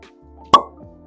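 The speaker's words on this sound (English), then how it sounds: "Here's a cork pop." A cork pulls out of a bottle of J.P. Wiser's 24-year cask strength blended Canadian whisky with a single sharp, close pop in a quiet room, followed by a faint rustle.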